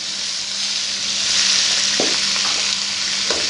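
Onions and spices frying in a pan give a loud, dense, continuous sizzle close up, with a couple of brief stirring knocks near the end and no talking.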